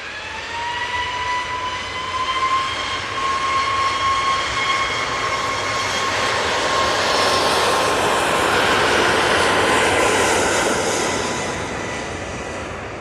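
A Boeing 737 Max jet departing for Alicante roars steadily close by, its engine whine holding a strong tone that swells and fades slightly over about thirteen seconds, with no talk.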